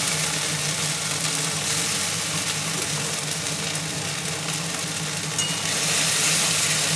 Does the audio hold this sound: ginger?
yes